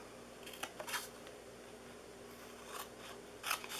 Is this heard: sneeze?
no